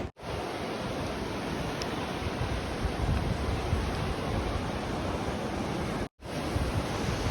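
Loud, continuous roar of ocean surf on an Oregon Coast beach with wind rushing across the microphone, briefly cutting out near the end.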